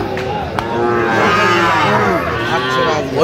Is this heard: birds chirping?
no